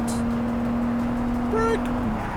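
Race car in the Project CARS 3 video game, engine holding a steady drone that dips and rises through a gear change near the end, with a brief higher whine mid-clip over constant background.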